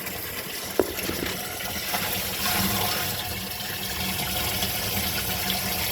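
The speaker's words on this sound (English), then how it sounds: "water's coming out" Water pours steadily into the sump of a 220-gallon aquarium during a water change, a continuous splashing gush with a small clunk near the start, moderately quiet and without talk.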